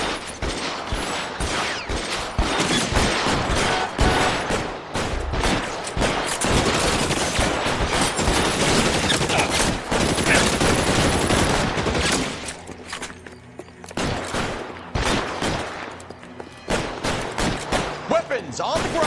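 Dense, sustained video-game gunfire in a police shootout, with many overlapping shots packed together for about twelve seconds, then sparser single cracks. Loud and close throughout.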